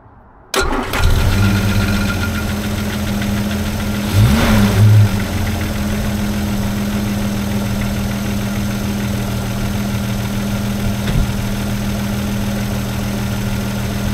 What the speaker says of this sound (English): Already hear from the exhaust note. That's smooth.